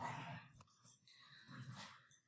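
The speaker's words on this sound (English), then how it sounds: "there goes my dogs" Dogs whine and growl faintly at a distance in a quiet room, a short burst of whimpering and low vocalising rather than loud barks.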